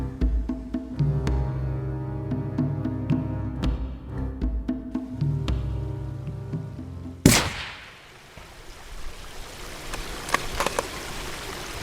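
A single sharp rifle shot at a deer hind about 160 yards away on an icy hillside, cracking loudly after a stretch of quiet outdoor ambience and followed by a fading rumble.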